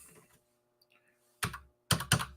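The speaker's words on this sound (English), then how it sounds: "Let's get to work and do some typing, folks. I'll type out my name." A name being typed out on a keyboard that seems stiff or faulty, a few sharp, loud key strikes in quick bursts after near silence, close up.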